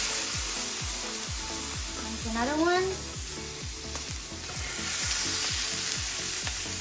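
Chicken breast frying in hot oil in a pan, a steady close sizzle under a rhythmic backing beat, with a brief rising tonal sweep and a short spoken remark.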